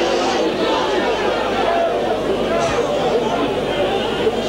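Home fans at a Bradford versus Castleford rugby league match keep up a steady, broad crowd murmur with grumbling chatter throughout, a dense wash of voices from the stands with no single standout shout.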